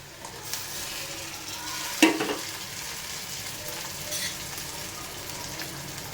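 Tomatoes sizzle in a pan while being stirred, a steady close frying hiss with a sharp scrape or clatter partway through, no voices.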